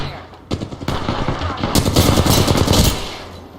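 Gunfire in an Apex Legends match, with dense rapid bursts of automatic fire building into a sustained loud barrage that tapers off at the end.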